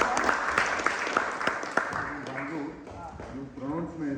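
An audience at a Non-Resident Indian event in Oxford claps, a dense patter of applause mixed with someone speaking over it through a sound system.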